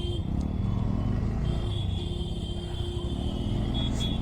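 A Bajaj Pulsar NS160 motorcycle engine pulls hard under load, a steady loud droning rumble with a constant whining tone running the whole time.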